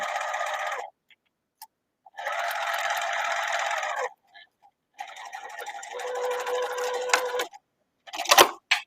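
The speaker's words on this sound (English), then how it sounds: "I'm going to sew down either side." A sewing machine stitching down both sides of a key fob strap runs in three steady whirring bursts separated by pauses, close and moderately loud, with a few small clicks between runs.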